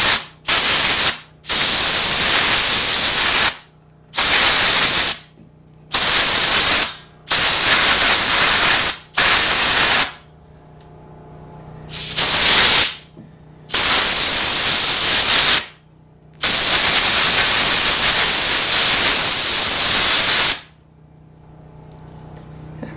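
Compressed air blasting dirt off a small 4x4 tractor: a series of loud, hissing bursts, each a second or two long, separated by short pauses, with a longer continuous blast near the end.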